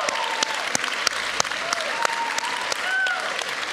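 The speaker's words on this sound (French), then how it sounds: "hey, on peut l'applaudir" An audience claps in a dense, continuous round of applause with sharp individual claps and a few faint voices under it.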